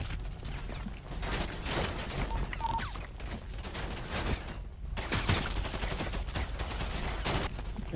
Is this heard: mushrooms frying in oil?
no